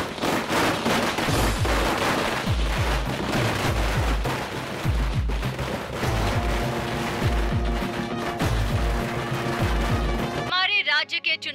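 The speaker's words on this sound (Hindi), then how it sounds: "जल्दी से पटाखे जलाओ।" Rapid bursts of Diwali firecrackers in a dubbed Telugu action movie, dense crackling pops over a pounding music score, loud and continuous before cutting to brief talk.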